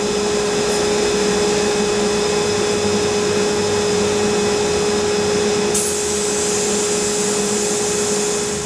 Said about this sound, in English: I need to sandblast those forks because they're nasty.